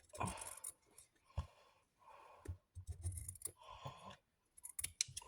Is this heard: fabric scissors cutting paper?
yes